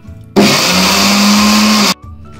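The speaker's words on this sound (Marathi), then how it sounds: "आता हे आपण मिक्सरला लावून घेऊया" Mixer grinder coarsely grinding roasted coconut in its jar for a stuffed okra masala, a loud steady whirring roar that starts abruptly, holds for about a second and a half, then cuts off cleanly into quiet.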